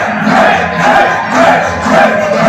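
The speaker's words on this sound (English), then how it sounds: "And this crowd loves it too." A wrestling event crowd cheers and yells loudly in swelling waves, a dense roar of many voices rising and falling with no single speaker standing out.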